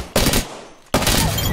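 Automatic gunfire in the video game Apex Legends, two loud close bursts of rapid shots split by a short dip, filling the whole brief moment without talk.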